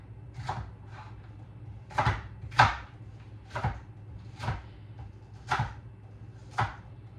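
Knife chopping a white onion on a board for stew, about seven separate sharp cuts spaced roughly a second apart, close and moderately loud over a low steady hum.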